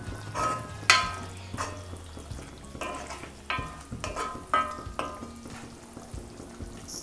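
Eggs being stirred into a simmering Kerala-style egg curry masala in a pan, with soft spoon scrapes and clinks over a low sizzle and bubbling, close by and with no voices.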